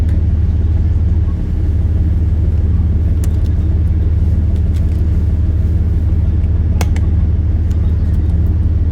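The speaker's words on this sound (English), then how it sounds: "So you have to drive over there with the ship." Engine drone of a boat being driven in a video game on the way to a secret island, a steady loud low rumble throughout with a few faint clicks over it.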